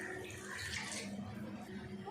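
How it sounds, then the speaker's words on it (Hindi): Water pours steadily into a cooking pot of rice for one-pot egg yakhni pulao, a continuous close splashing rush that lasts about two seconds without a break. "अब डाल देते हैं पानी"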